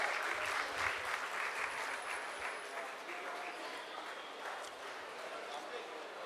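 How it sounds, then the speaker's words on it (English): An audience claps at a closing ceremony in India, a continuous crowd applause that holds steady and slowly thins, with scattered voices and a few sharper claps standing out near the front. "Yeah, please give a huge round of applause."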